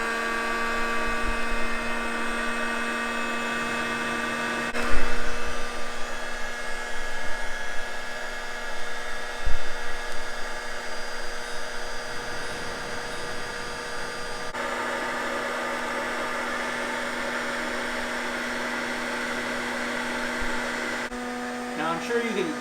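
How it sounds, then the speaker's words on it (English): A Nesco coffee bean roaster runs with a steady whooshing, whining blower tone like a quiet vacuum cleaner, continuous and close, with a person talking over it at times and a few knocks. "The question you might have is how loud is this actual unit? I kind of describe it as a quiet vacuum cleaner,"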